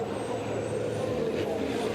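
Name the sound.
turbochargers whistling on racing trucks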